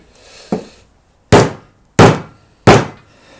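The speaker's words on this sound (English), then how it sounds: "If you ever want to hit a pop with a hammer, it will hold up quite well." Four sharp, solid hammer blows strike a Funko Pop vinyl figure, each a hollow thunk with a quick decay, spaced about a second apart.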